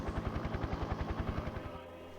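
A helicopter in the video game Parasite Eve 2 thuds with rapid, even rotor beats close by, then the chopping fades into a steadier hum near the end.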